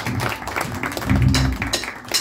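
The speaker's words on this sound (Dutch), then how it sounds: "Applaus voor Eliza" Live concert audience applauding for the sound engineer at a try-out show in a cultural centre, a steady burst of clapping with some voices and cheers mixed in.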